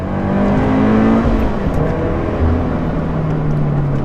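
A supercharged Scion FR-S four-cylinder with an aftermarket exhaust revs loudly and close, its pitch rising and falling over a few seconds with no talk.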